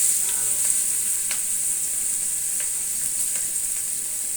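Onion frying in oil, a continuous close hiss and sizzle with scattered small pops and occasional stirring scrapes, steady and unbroken throughout.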